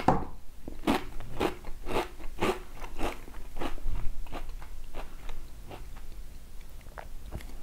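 Pringles Pulled Beef crisps crunch and crackle between the teeth in a close, rhythmic run of about a dozen sharp bites and chews, with no talking.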